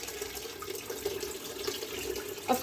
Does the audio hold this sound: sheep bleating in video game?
no